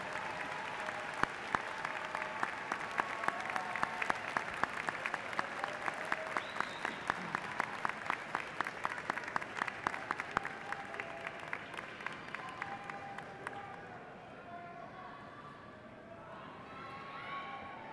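Large graduation audience at a Suffolk County Community College commencement applauding family and friends, dense sustained clapping across a big hall with faint voices mixed in, tapering off toward the end.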